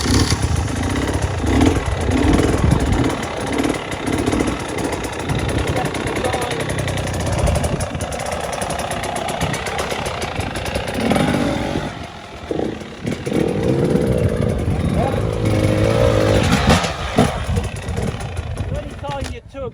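An enduro motorcycle engine idles and surges as the rider feathers the clutch during hard enduro training in Cambodia, a steady close engine drone with uneven throttle swells and clatter, with talk over it.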